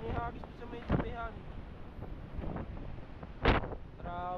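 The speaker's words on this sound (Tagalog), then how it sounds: "Ang lakas ng hangin nito." Very strong wind roars and buffets the microphone during a violent storm, strong enough to tear things off a roof, with a person speaking in short bursts over the gusts.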